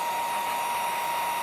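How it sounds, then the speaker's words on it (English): Hair dryer blowing on wet green watercolor paint on a handmade Christmas card ornament, a steady, loud, unbroken whoosh of air running alone. "I'm taking the hairdryer to this little green ball back here."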